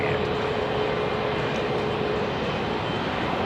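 A Boeing 787 Dreamliner passes overhead near London Heathrow, producing a steady, loud broadband jet roar with a faint whine, continuous and unbroken.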